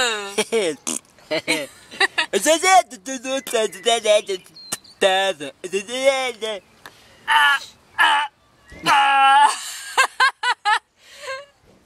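A person imitating crows cawing near Launceston, Tasmania, producing a string of close, nasal caws and croaks in irregular bursts, mixed with snickering and laughter.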